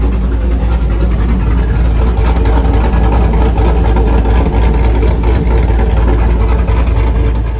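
A Chevy SSR's 5.3 V8 with a Tick Street Heat 2 cam runs loud and close with a deep, steady roar that never pauses. No speech is heard over it.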